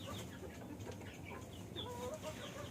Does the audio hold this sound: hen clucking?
yes